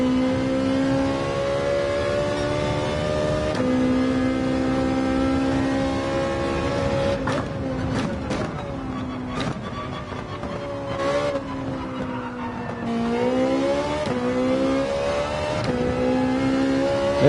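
Race car engine in Gran Turismo 7 on the Daytona Road Course, a steady high-revving drone with pitch dropping and climbing through several quick manual gear shifts midway, loud and continuous with no talk.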